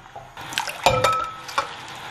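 Green-skinned radish and carrot shreds dropped into a pot of boiling water, a soft wet splash followed by bubbling, stirring and light sloshing up close, with no talk.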